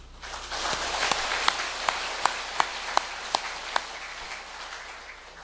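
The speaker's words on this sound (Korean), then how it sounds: "감사와 격려의 박수를 뜨겁게 올리도록 하겠습니다" Church congregation applause honoring missionaries to Bangladesh at a 40th-anniversary service, a dense wash of clapping with a few loud individual claps standing out near the front, fading toward the end.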